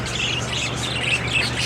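Pet spangle birds in a breeding setup chirp and tweet continuously, with several small calls overlapping in a steady, fairly loud chatter against a constant low hum.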